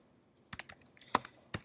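Short bursts of keystrokes on a computer keyboard, several quick clicks in irregular clusters, close and fairly quiet with no talking.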